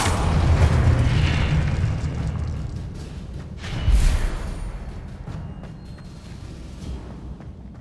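A Confringo spell blast in Hogwarts Legacy: a deep booming explosion up front, then a second punchy burst near the middle, each followed by a rumbling decay that fades to quiet.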